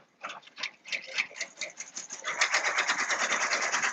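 An embroidery machine sews satin stitch on an appliqué shirt, a close, rapid mechanical ticking chatter that speeds up and grows steadier and denser toward the end.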